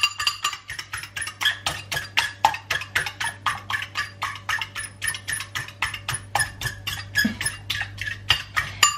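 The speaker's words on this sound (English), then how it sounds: "Takes a lot of whisking, takes a lot of whisking." A whisk beats pancake batter in a bowl with quick, even metallic clicks and scrapes, about three strokes per second, close and continuous over a low steady hum, no talking.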